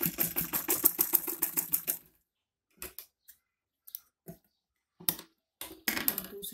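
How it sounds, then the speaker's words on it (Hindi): A sewing machine stitches a small Kanha dress bodice with a quick run of rapid, clattering stitches for about two seconds, followed by scattered single clicks and short bursts as the fabric is repositioned. "दूसरी साइड से भी हम बिल्कुल ऐसे ही सिलाई लगाएंगे"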